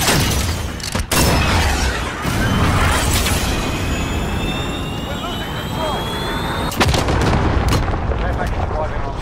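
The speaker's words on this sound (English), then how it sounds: "Cruise missile, go for launch." A cruise missile strike in a video game: a loud, sustained roar of blasts and rumbling fills the whole stretch, with sharp impact cracks near the start and again later, plus jet-like whine overhead.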